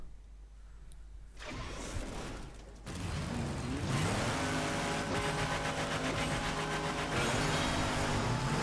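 Monster truck engine in MotorStorm Pacific Rift, a loud mechanical drone that steps up in intensity and rises and falls in pitch as the truck drives, with clanking and creaking over the roar.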